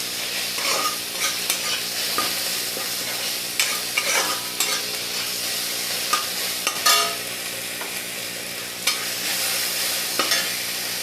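Rohu fish with tomatoes and black sesame paste fries in a pan. A steady sizzle runs throughout, broken by regular scraping strokes of a spatula as the mixture is stirred.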